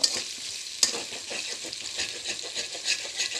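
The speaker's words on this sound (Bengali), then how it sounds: "গরম তেলের মধ্যে আমি পেঁয়াজ আর চিংড়ি মাছটা কতক্ষণ নেড়ে মোটামুটি হয়ে গেছে" Onion and shrimp are stirred in hot oil, producing a soft steady sizzle broken by a couple of sharp spatula clacks, close and moderately quiet with no talking.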